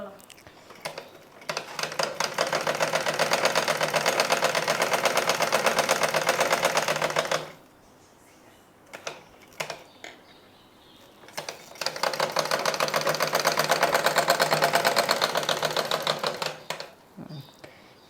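A sewing machine stitches one side seam of a churidar pant in two long, loud, steady bursts of rapid mechanical clatter, separated by a quiet pause with light handling noises.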